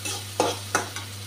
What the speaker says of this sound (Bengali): মশলাটা ভালো করে ভাজা হয়ে গেছে